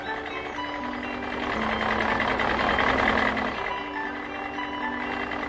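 Tractor engine in a children's cartoon, a steady, fairly loud droning rumble with a sustained tonal hum that swells in the middle and eases off, with no talking.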